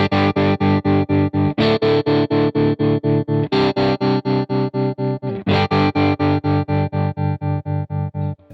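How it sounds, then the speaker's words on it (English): Electric guitar played through a Crazy Tube Circuits White Whale pedal with the tremolo placed after the reverb, giving loud, distorted chords chopped into steady, even pulses that cut off the reverb tail too, with no voice over it. "If I put the tremolo in the post position, that's the tremolo coming after the reverb. So we get this chopped tremolo and a chopped reverb."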